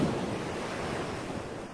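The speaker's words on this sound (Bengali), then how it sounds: "ঢেউ শান্ত হচ্ছে" Steady ocean surf after a storm at sea rolls on as a continuous, moderately soft wash of breaking waves with some wind-like rushing and no voices.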